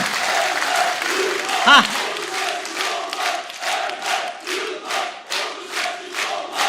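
Crowd applause at a political party rally in Ordu, a sustained rhythmic clapping from a large audience with cheering, while a voice talks over it.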